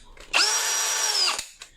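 Original Dongcheng cordless electric drill powered by a repaired 20V lithium battery, a single roughly one-second high-pitched whine spinning up, holding steady and winding down, followed by a couple of soft clicks.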